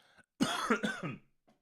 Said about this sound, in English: sometimes I have to cough and I can't control it